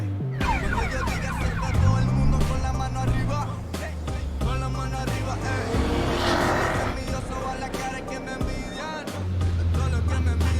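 A car engine from the video game Cyberpunk 2077 revs and shifts through gears, its pitch climbing and dropping in loud sweeps, with a voice talking intermittently alongside.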